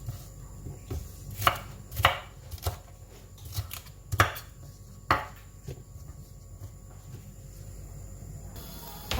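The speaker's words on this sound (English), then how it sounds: "Now I'm going to chop all the rest of our vegetables" A knife chopping vegetables for jollof rice on a board, a run of sharp irregular chops with short pauses between bursts, close and fairly quiet.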